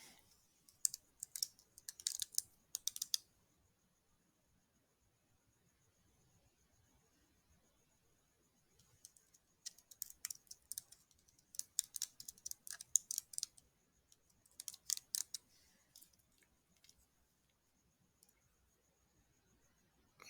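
Computer keyboard typing in two bursts of quick, light key clicks, with a quiet pause between them; no one speaks.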